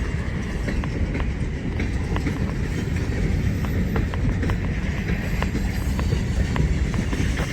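A train rolling through a railroad yard, its wheels clicking steadily over the rail joints in an even rhythm beneath a constant low rumble.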